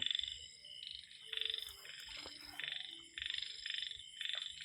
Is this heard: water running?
no